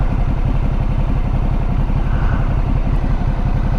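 A motorcycle accelerates on the road during riding practice, its engine throbbing loud and close in a steady pulsing drone.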